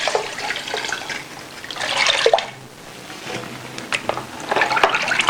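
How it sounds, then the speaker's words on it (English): Liquid air freshener mix is poured into water, giving a splashing, trickling pour that swells twice over a few seconds, close and fairly clear with light drips between. "Okay, so I'm going to pour the mix into the water right now."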